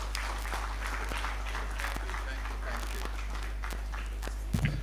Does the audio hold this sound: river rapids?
no